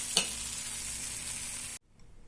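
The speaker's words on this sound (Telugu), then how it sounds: "ఆనియన్స్ ఇవన్నీ కూడా వేగిపోయాయి" Onions frying in a pan for onion chutney, an even sizzle with a stirring scrape near the start, close and moderately quiet, cutting off abruptly near the end, no speech.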